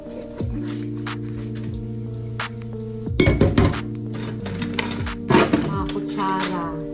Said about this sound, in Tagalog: Dapat pag maghugas ng pinggan, unahin yung mga baso